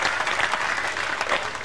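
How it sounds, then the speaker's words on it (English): A crowd of spectators applauds after a ball is sunk at a world 9-ball pool championship, a steady dense patter of clapping for a short stretch, fairly close and full, with no talk. "He just sank the 99 ball and everybody was clapping there"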